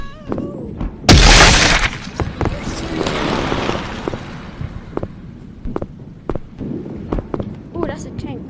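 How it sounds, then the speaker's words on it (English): A tank firing in a chaotic action video game lets off a loud, sharp blast that decays over about a second, followed by scattered thuds and impacts amid ongoing gunfire, with a voice talking over the noise. "Oh, that's a tank."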